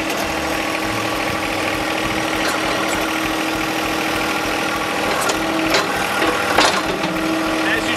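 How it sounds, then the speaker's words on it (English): John Deere 1025R compact tractor with backhoe idling steadily at mid pitch while its outriggers are raised, a constant close engine drone with a few faint clanks toward the end. "I'm going to raise our outriggers."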